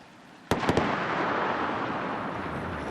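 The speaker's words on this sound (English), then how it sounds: "Twin sonic booms." Twin sonic booms from a returning SpaceX Falcon first stage heading to Landing Site 1, heard as a sharp double crack in quick succession followed by a long rolling rumble that fades slowly, with no talk over it.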